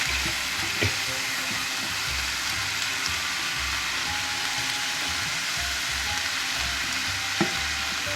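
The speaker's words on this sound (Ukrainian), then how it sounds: "Гриби підсмажились, додаємо стручкову квасолю. Тушкуємо все разом до готовності." Steady sizzling of mushrooms and green beans frying in a pan, a continuous hiss with occasional soft clinks, close and fairly loud.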